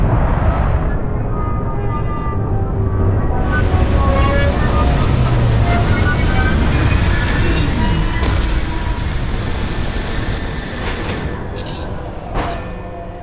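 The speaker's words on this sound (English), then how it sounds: "Retros firing." A spaceship's retro thrusters fire during a landing in the game Starfield, a loud, sustained roaring rumble with a rising tonal whine that holds steady for many seconds before easing slightly near the end.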